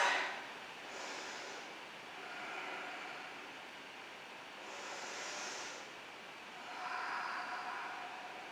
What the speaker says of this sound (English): slowing the breath